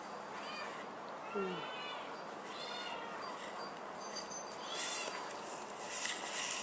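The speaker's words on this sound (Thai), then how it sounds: "ลูกแมวนะคะ เธอเริ่มจะเมากัญชาแล้ว" A kitten meows in a few short, thin calls, fairly faint beneath someone talking over steady indoor background noise.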